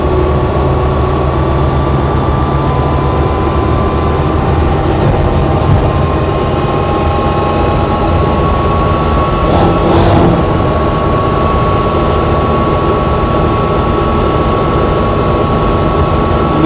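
Land Rover Series III 88in diesel truck cab driving at speed, a steady loud engine drone and cab rumble running throughout with no talk, swelling slightly near the middle.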